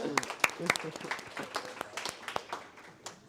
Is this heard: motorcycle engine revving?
no